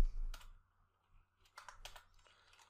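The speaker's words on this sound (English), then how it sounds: "To do that, I simply type here" Clicky keystrokes on a computer keyboard while entering code, a short burst at the start and then a longer flurry of taps after a pause, close and fairly quiet, with no voices.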